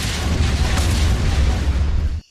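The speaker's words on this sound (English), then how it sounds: "there was the flash and thunder crack of an explosion from behind them." A loud, sustained explosion rumbles with heavy low-end boom and broad crackling noise from the start, holding steady before cutting off abruptly near the end, set in a Star Wars audiobook with no voice over it.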